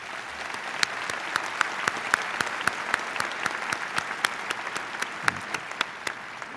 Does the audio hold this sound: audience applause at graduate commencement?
yes